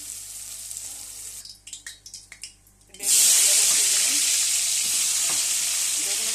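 Ash gourd ghonto cooks in a pan with sugar added: a few light clinks and stirring knocks, then a sudden loud, steady sizzle that carries on close by.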